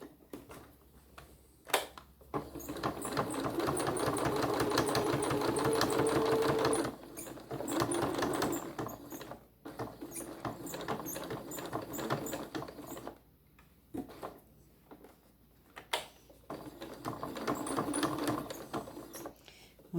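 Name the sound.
sewing machine stitching a pumpkin hotpad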